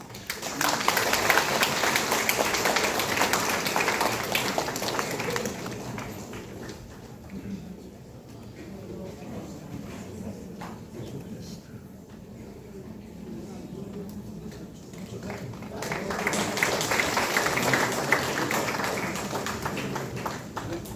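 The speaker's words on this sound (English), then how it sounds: "give them a big round of applause" An audience at an official state event bursts into applause, loud clapping at the start that fades to a lull mid-stretch and then swells again toward the end.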